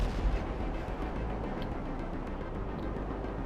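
A flare fired from a vehicle in GTA Online lets out a loud, deep booming blast at the start, then trails into a sustained low rumbling roar that carries steadily to the end.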